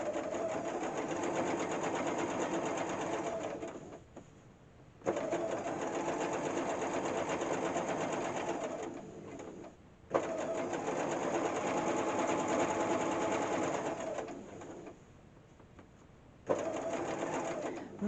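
A sewing machine runs in steady bursts of rapid whirring stitches while sewing a flat felled seam, with three long runs separated by short pauses, close and moderately quiet.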